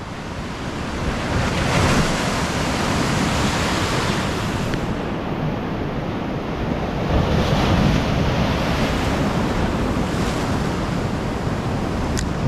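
Loud, continuous ocean surf breaking on the shore, with steady wave wash swelling and receding over several seconds and heavy wind buffeting the microphone throughout.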